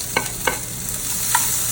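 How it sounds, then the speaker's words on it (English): Vegetables with onions and garlic hit hot olive oil in a pan, giving a steady close sizzle with a few sharp clicks and stirring knocks over the hiss. "I'm just going to throw all the vegetables in. And that's the sizzle that you want."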